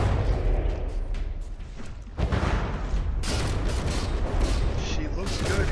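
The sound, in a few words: naval turret guns firing in a video game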